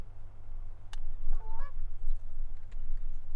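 Geese give a short burst of honks during a waterfowl hunt in a field, fairly close and loud above a steady low rumble of wind, with no talking.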